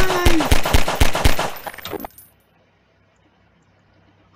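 Rapid bursts of gunfire aimed at police in Garry's Mod, loud close shots in quick succession for about two seconds, then near silence.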